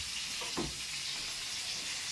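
Fish sizzles steadily in a frying pan with hot oil as home cooking goes on, a continuous close hiss with a brief soft knock near the start and no voices.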